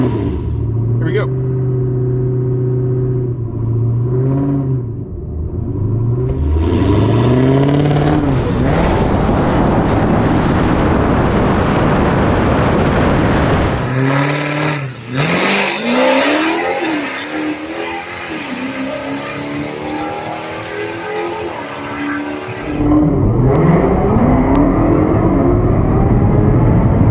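Blower and nitrous Camaro launching hard at a drag race, the engine roaring up through the revs loud and close with wind buffeting, a gear change midway, then a sustained high scream; a voice talks over it early.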